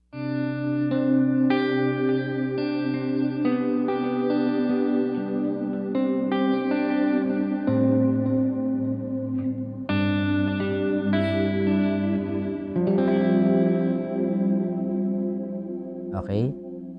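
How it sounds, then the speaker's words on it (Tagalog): Electric guitar through a Tank-G multi-effects unit plays sustained ambient chords with delay and fairly strong reverb, loud and continuous, with notes ringing into long trails and a brief pitch swoop near the end. "Then, nilagyan ko siya ng delay and reverb."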